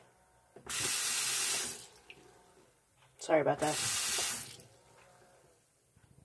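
A sink faucet runs in two separate bursts of about a second each while a gas mask is rinsed, with a hissing, splashing rush of water close by and a brief spoken remark in between.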